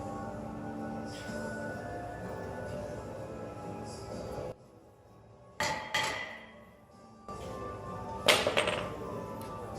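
Hammer taps knock a brake rotor free on a 2012 Dodge Challenger SXT, a few sharp metallic clanks in short clusters over a steady background hum in a garage.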